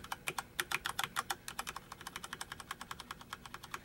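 Corsair K70 mechanical keyboard keys pressed in a quick run of sharp, close clicks, faster and denser at first, then settling into a steady, even tapping rhythm with no voices.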